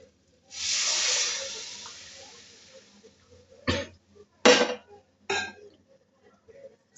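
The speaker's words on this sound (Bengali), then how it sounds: "এবার আমরা এর মধ্যে পানি অ্যাড করে দেব" Water poured into a hot pan of fried rice and lentils for khichuri sends up a strong hissing surge lasting a couple of seconds, fading out, then followed by three short, sharp bursts of hiss.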